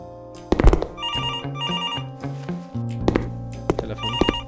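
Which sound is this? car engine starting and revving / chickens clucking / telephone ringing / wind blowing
telephone ringing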